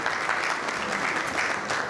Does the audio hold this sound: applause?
yes